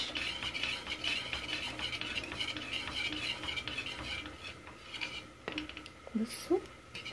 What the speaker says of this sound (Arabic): وعلى طول نقلب عشان ما يكلكعش